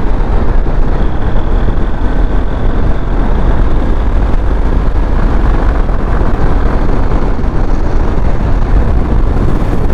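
Honda SP160 motorcycle ridden at speed in fourth gear, a loud steady engine drone mixed with heavy wind rush throughout, no speech.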